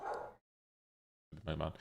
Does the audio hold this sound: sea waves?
no